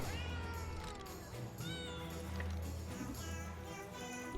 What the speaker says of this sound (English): Meow, meow, meow, meow.